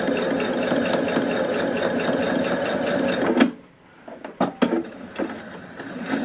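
Domestic sewing machine stitching a fabric face mask, running in a steady, close, loud whir for over three seconds, then stopping abruptly, followed by a few quiet clicks and handling knocks.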